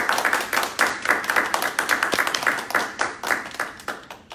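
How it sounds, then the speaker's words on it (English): Audience applause for a panelist at a Toastmasters donations and sponsorships panel, a small room of people clapping steadily and crisply, individual claps distinct throughout. "Let's give Dawn a round of applause."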